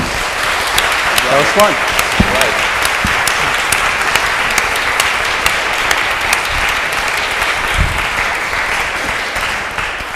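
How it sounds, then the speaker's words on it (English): An audience at an academic symposium on school inequality applauds steadily, a dense, even patter of many hands that holds for the whole stretch, with a brief spoken remark near the start. "Can we just give a round of applause to the..."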